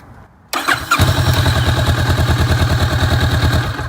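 A starter whirs briefly, then a Kawasaki Vulcan S motorcycle engine catches and settles into a loud, close, lumpy idle with a rapid rhythmic pulse.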